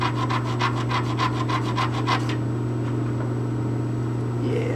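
Rapid rhythmic rubbing strokes as a small wood piece is trimmed by hand, close and clear for about two seconds, then stopping over a steady low hum.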